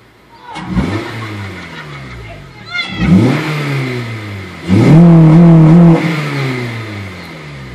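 A 2006 Honda Civic Si coupe with a Skunk2 cold air intake, its engine revved three times in close succession, each rev climbing and falling, with the last one held longest and loudest.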